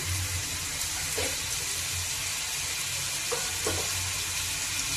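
Mango pieces cooking in oil in a pan give a steady, soft sizzle that continues without a break, with a few faint clicks and no voices over it.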